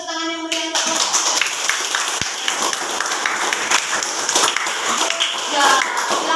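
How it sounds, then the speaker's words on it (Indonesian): Elementary school classroom applause for a student group, lively clapping from many children that starts after a brief voice and continues steadily, with scattered chatter underneath. "kasih tepuk tangan yang meriah untuk kelompok"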